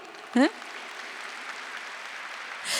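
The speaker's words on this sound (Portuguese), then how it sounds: "vamos aplaudir" An audience at a Catholic parish gathering applauds mothers who pray for their children, a soft, steady patter of clapping that follows a brief voice and runs on at moderate distance before swelling slightly at the end.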